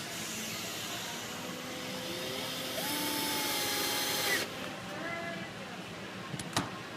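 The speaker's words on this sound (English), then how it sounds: "I just use a short, like a 1/2 inch screw that goes in there, and I'll just run it in." A cordless drill drives a short half-inch screw into the air filter box of a 7.3 Ford Powerstroke, its motor whining and rising in pitch over a few seconds before stopping, close and moderately loud, with a voice talking around it.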